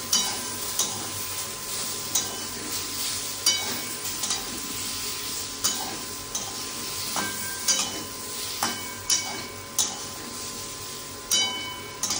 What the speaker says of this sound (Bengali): আর এই যে শুক্তোর মশলা দিয়ে একটু কষে নিয়ে জল দেবো।